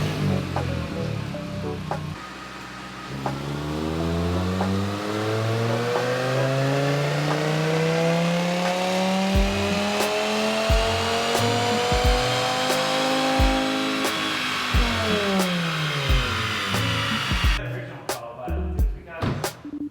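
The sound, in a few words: 2.5 engine with stainless exhaust revving on dyno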